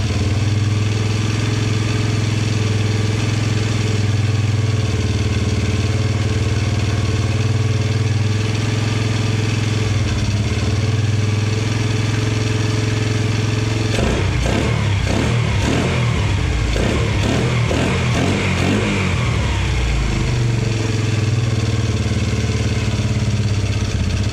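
A 1980s Yamaha Moto4 80cc ATV engine with a newly replaced carburetor and fuel lines, idling steadily and loudly up close, then revved in a series of quick throttle blips midway before settling back to idle.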